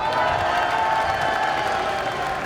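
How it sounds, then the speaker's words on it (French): A Japan Expo conference audience claps and cheers continuously at a steady loud level, with a dense crowd wash and no clear talking over it. "je suis même pas sûr qu'il ait compris que c'était lui qu'on applaudissait"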